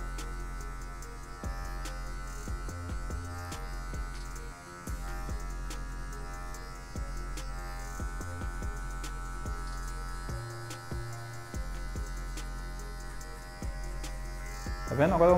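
Electric hair clippers run steadily while fading afro hair with guard combs, a close continuous buzzing hum with brief dips as the clipper moves, with a voice talking over it.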